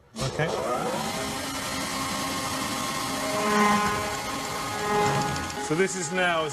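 A Kugelfischer mechanical fuel injection pump running on its own, putting out a steady, close mechanical whirring hum with tonal overtones that holds level for several seconds.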